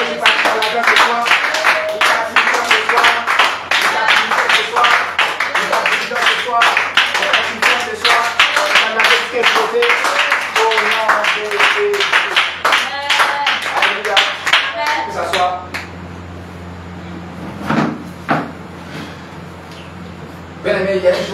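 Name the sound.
congregation clapping and applauding in church worship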